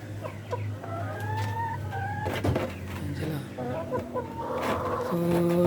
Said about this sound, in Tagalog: So yan yung mga breeders natin na hens.